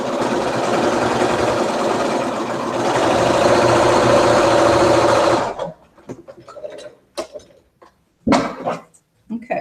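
A sewing machine runs in a long continuous whir as quilt pieces are stitched together, then stops; afterward a dog barks and whimpers in scattered bursts nearby.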